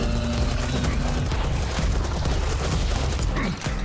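Dense gunfire fills a chaotic Serious Sam 4 co-op game with multiplied enemies: rapid overlapping shots and booms in a loud, continuous barrage that dips briefly near the end.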